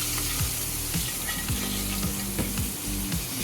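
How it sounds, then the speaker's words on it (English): Hot oil spooned over a whole pompano sizzles loudly and continuously, with repeated short splashing bursts from each baste and no talking. "Let me give him a couple of bastes with the hot oil."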